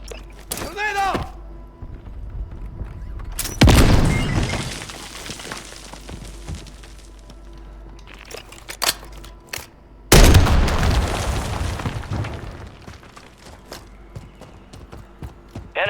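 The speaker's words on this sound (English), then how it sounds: "Grenade out!" Grenades in the battle-royale shooter Warzone go off in two heavy, booming explosions several seconds apart, each a loud crash trailing into rumble, amid scattered gunfire and game effects, with voices calling out between blasts.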